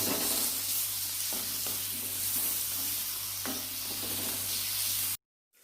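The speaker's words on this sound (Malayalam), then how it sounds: "ഇനി ഇതിലേക്ക് നമുക്ക് ഈ ഒരു തക്കാളി ചെറുതാക്കി നുറുക്കിയത് ഇട്ട് കൊടുക്കാം. ഇതൊന്ന് നല്ലപോലെ ഒന്ന് വഴറ്റിയെടുക്കട്ടെ." Chopped tomato sautés in a frying pan with a steady sizzle, broken by a few soft scraping stirs, continuing alone until it cuts off abruptly near the end.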